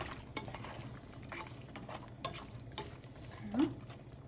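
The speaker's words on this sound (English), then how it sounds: "You just keep stirring it occasionally and Put it on low" A spoon stirs orange chicken sauce in a pan on low heat, giving soft intermittent scraping and faint sizzling with a few light clinks, fairly quiet and close.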